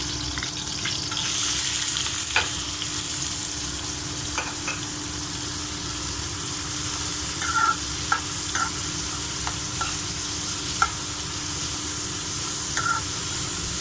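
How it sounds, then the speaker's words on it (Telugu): Sliced onions fry in a pan for paneer fry, a steady close sizzle with occasional light scrapes and clinks as they are stirred, with no voices over it. "గోల్డ్ కలర్ వచ్చే వరకు ఫ్రై చేసుకుందామండి."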